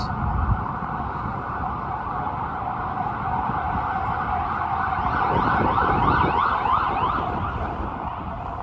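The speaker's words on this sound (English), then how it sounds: "these streets are a lot quieter, minus the ambulance" An ambulance siren wails continuously in the distance over a steady rumble of city traffic on Manhattan's Upper West Side at night.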